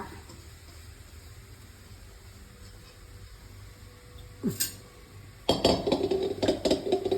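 A metal spoon scrapes and clinks against a pan while stirring chammanthi powder ingredients as they roast, a quiet stretch first, then a few sharp clatters and a rapid run of scraping strokes near the end.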